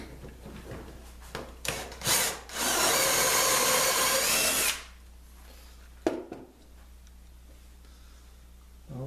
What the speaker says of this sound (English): let's just drill this first hole here.